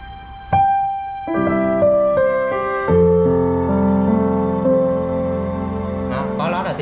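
Roland HP506 digital piano playing chords with a string pad layer sustained underneath, long smooth held tones shifting through several chord changes, with a brighter rising run near the end.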